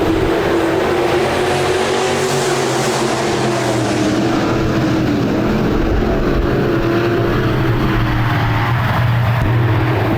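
RaceSaver sprint cars roar together in a heat race at Park Jefferson Speedway, a loud, continuous blend of engines sustained throughout with rising and falling pitch as the pack circulates.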